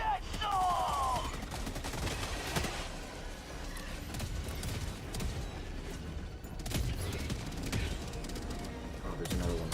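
Autocannon fire in the Helldivers 2 video game at difficulty 9, with heavy repeated shots and explosions in a dense, continuous barrage of battle noise, loud throughout with a voice talking over it.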